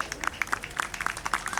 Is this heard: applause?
yes